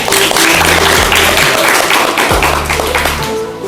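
Hosts and guests of a school extracurricular podcast clap loudly and close to the microphone, a dense continuous burst of hands with low tonal hum and music-like tones sustained underneath throughout.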